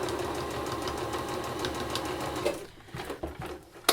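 A sewing machine top-stitches a fabric seam on quilt-as-you-go patchwork, running in a steady, close mechanical whir for about two and a half seconds before stopping, followed by a few quieter handling knocks.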